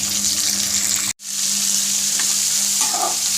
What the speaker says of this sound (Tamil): சின்ன வெங்காயம், பூண்டு, பெரிய வெங்காயம் நல்லா பொன்னிறமாக வரட்டும்.